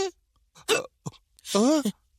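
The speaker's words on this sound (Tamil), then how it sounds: "திடீர்னு விக்கல் வருது?" A woman hiccups suddenly in a Tamil TV drama scene, a short sharp catch at close range followed by a voiced, wavering moan-like sound, with quiet gaps between.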